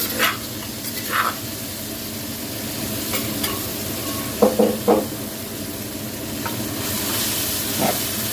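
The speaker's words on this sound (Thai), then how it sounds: "ไปดูกันตอนผัดเลยค่ะ" Fish curry paste stir-fried in a wok for a Thai spicy stir-fry with herbs, with a steady sizzle and occasional scraping, clanking strokes of a utensil against the pan.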